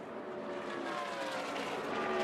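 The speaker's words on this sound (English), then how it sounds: "There's Matt Crafton in that 88, the 2-time winner here at Texas, chasing down Noah Gregson" NASCAR pickup trucks racing at Texas Motor Speedway in the 2018 PPG 400 produce a dense, sustained engine roar that swells slightly as the pack passes, loud and continuous with no voices.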